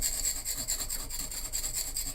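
Cold steel chisel being sharpened on sandstone, giving a steady, continuous gritty rasp of metal rubbing on stone at close range, with no voices.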